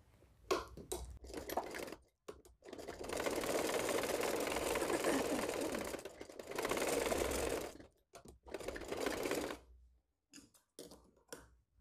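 An electric sewing machine stitches the fitting seam of a girl's dress in two long, steady whirring runs and a shorter one, broken by brief clicks and pauses, close and clear.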